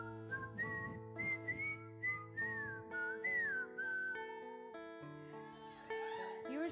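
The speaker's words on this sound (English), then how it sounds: "See, I can whistle too," A person whistles a wavering, melodic tune over sustained musical tones, clear and close, lasting several seconds.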